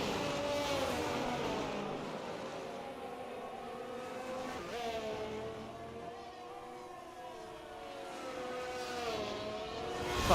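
A race car in a sim racing game at the Qatar circuit drones steadily as it drives past, engine pitch rising and falling through gear changes, fairly faint and distant with no talk over it.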